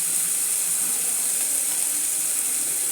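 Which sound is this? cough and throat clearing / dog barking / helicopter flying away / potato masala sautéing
potato masala sautéing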